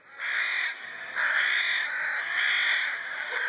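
Crows caw in repeated harsh calls, loud and close, several overlapping bursts in a steady rhythm with no talking.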